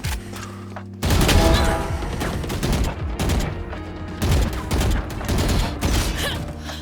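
Gunfire in a shooter video game, dense rapid bursts of shots crackling almost without pause after a brief quieter opening, loud and close.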